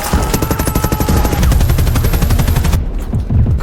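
Rapid bursts of assault rifle fire crackle in a film battle scene, dense repeated shots in quick rhythm for most of the clip, then a short pause and a final burst.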